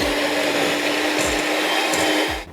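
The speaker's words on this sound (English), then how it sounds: "First step is to beat the butter until it goes fluffy." An electric mixer beats vegan butter in a bowl set on a tea towel, a loud steady whirring drone with a few rhythmic thumps from the beaters, stopping at the end.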